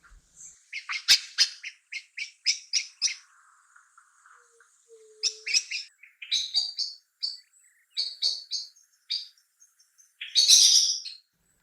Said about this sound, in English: put the alarm call and the beautiful song of blackbird in this tweet of the season.